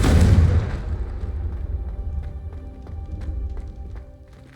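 Incendio and Confringo fire spells in the video game Hogwarts Legacy: one loud blast at the start that fades into a low rumble, with faint scattered ticks after it.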